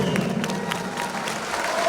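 Applause from the audience at a political party congress in Bolivia, steady dense clapping from a large crowd with faint cheering mixed in.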